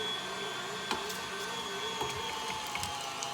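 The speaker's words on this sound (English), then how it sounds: "All right, so start grinding it" A meat grinder churns meat for meatballs, giving a steady, close mechanical whir with a constant tonal hum and small irregular clicks, with no talking over it.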